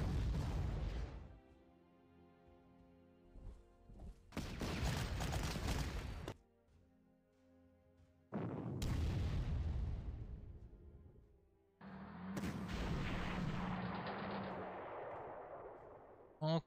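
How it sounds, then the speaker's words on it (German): Artillery fire in the Panzer Corps war game, four heavy booming blasts separated by quiet gaps, each one loud and rumbling before it tails off. "So, Artillerie."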